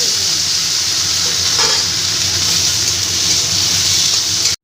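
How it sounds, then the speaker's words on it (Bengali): Diced potatoes frying in hot mustard oil make a loud, dense, steady sizzling hiss that runs unbroken for several seconds before cutting off. "তেলে আমি কেটে রাখা ডুমো ডুমো করে আলুটাকে"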